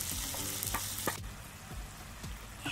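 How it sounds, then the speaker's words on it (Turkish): Tomatoes and peppers sizzle in a pan outdoors for lamb kokoreç, a steady close frying crackle broken by repeated scraping stirs and clacks of a utensil against the pan. "Şimdi domateslerle biberler ölene kadar güzelce bu şekilde pişirmeye devam ediyorum."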